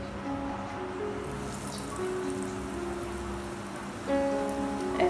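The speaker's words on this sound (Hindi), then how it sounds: "अब हम रोल सारे फ्राई करेंगे।" Breadcrumb-coated aloo chicken rolls fry in hot oil over low heat, a soft, steady bubbling sizzle that grows slightly louder near the end, with no talk.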